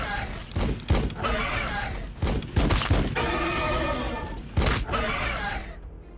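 Units trade fire on a Warhammer 40,000: Battlesector battlefield, with repeated loud, sharp bursts of gunfire and impacts spaced across the moment and a dense, busy battle din continuing between the volleys.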